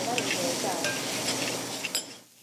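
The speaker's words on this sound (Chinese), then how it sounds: "麻油、老姜爆炒" Ginger stir-fried hard in sesame oil in a restaurant kitchen for a chicken hotpot, a loud close sizzle with metal stirring scrapes and clinks, brief and busy before cutting off.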